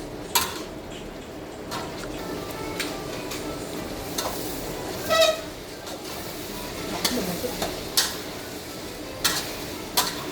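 Chicken browning in a pan for chicken in coconut milk with green papaya, a steady close sizzle and fry with occasional clinks of a utensil against the pan.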